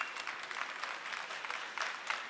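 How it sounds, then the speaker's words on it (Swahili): Young people at a government event clap for themselves in a fairly quiet, continuous patter of many hands with a few sharper bursts, and no one speaks. "Hongera sana, jipigieni makofi wote."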